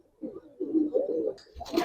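Giribaz pigeons coo in a short low rolling phrase, fairly close, ending in a brief rustle or flutter.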